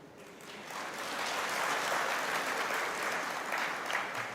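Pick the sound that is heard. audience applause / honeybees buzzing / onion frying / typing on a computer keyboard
audience applause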